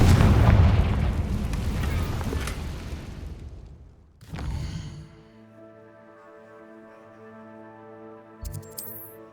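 A Confringo spell blast in Hogwarts Legacy lands as a loud, rumbling explosion that slowly decays over several seconds. A second burst follows, and then sustained tonal game music plays on its own.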